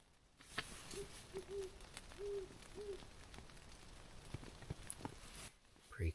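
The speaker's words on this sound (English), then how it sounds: "An owl just joined me." An owl hoots in snowy winter woods, a short series of four or five low soft calls at moderate distance, with faint crunching footsteps and quiet rustling close by.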